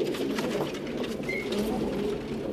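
Zarband Gora mixed pigeons coo together in a loft, a dense, continuous low burbling murmur from several birds close by with no pauses.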